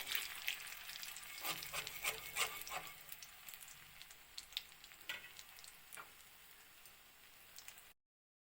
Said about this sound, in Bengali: ভালো করে এই পিঠ ওই পিঠ ভালো করে ভাজতে লাগবো লাল লাল হয়ে